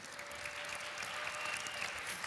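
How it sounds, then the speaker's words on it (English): Banquet audience gives a steady round of applause at a reef aquarium conference dinner, an even wash of many hands clapping without talk. "Ladies and gentlemen, can we have a round of applause for Andy Ryan and Karen Britton?"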